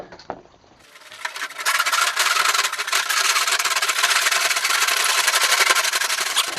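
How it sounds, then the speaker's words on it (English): Hand saw cutting through wood for a dollhouse-style roombox made from a TV, steady back-and-forth rasping strokes starting after a second and continuing loud and close. "I'm going to start sawing."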